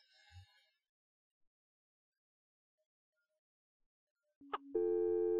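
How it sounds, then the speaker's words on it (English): Telephone busy signal: a steady tone starts abruptly and holds alone after a near-silent stretch, with a brief sharp click just before it. "The moment I heard beep, beep, beep."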